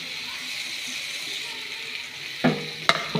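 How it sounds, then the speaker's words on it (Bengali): Vegetables sizzle softly in hot oil and spice masala in a home kitchen, with a steady faint frying hiss and a couple of sharp spoon-against-pan scrapes as they are stirred. "সবজিটা একটু মশলার সাথে ভালো করে কষিয়ে নেব।"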